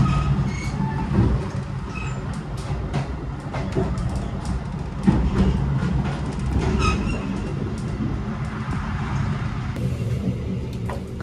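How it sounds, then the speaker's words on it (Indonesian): Taksaka executive train rolling on rails, a steady loud rumble of wheels and carriage with clattering joints and occasional faint squeals, heard from inside, continuous throughout. "Kereta api Taksaka diberangkatkan tepat waktu dari Jogja jam 8:45."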